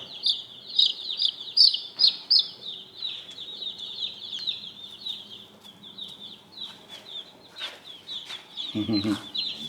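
High-pitched peeping and soft clucking from several young Cornish cross meat chicken chicks, close and continuous, with faint rustling underneath.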